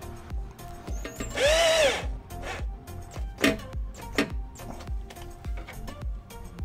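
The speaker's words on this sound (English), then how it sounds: "I prefer to use this drill." A power drill runs in short bursts, with one longer whirring spell, while fitting H&R lowering springs on a Lincoln MKS, amid clanks and taps of tools against metal parts.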